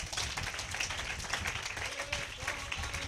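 Church congregation clapping together in a steady, dense patter that runs the full length, fairly close, with some voices mixed in underneath.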